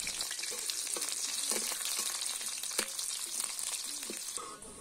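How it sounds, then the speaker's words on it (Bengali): Onion fries in hot oil in a village kitchen while potato mash is being made. A loud, dense, continuous sizzling hiss carries light stirring clicks and pops throughout, close up, and no one speaks. "পেঁয়াজ ভেজে নিব।"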